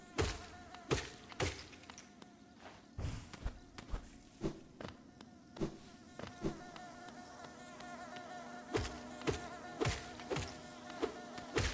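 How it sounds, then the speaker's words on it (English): Insect buzzing from bees in the video game Hollow Knight, a soft droning hum under repeated sharp percussive game hits and footstep-like thuds throughout. "Bees are generally a good sign."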